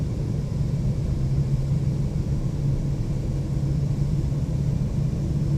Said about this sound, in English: Engines are still starting up